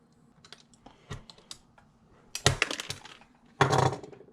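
Cutting a part of an AAP-01 pistol: light scraping and snipping clicks, then two louder crunchy cuts near the end, close and fairly quiet with no talking.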